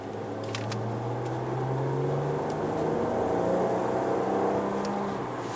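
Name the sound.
Maserati Quattroporte engine and exhaust while driving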